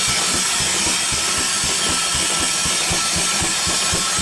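A wood-fired steam engine chugs slowly and steadily, with regular low thumps under a constant loud hiss of steam.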